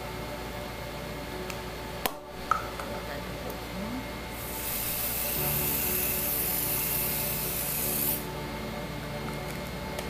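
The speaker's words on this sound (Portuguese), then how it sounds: "Passar um pouquinho do spray. É um spray de brilho." Hair shine spray hisses from a can in one continuous burst lasting about four seconds, following a couple of small clicks and handling noises in a quiet room.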